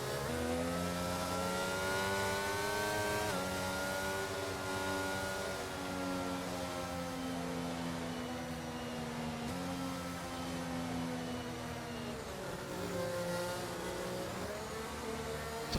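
Race cars in a league racing video game, Australia round, surge forward at a restart behind a departing safety car: layered engine tones held at steady high revs, rising and dipping in pitch, dense and loud throughout.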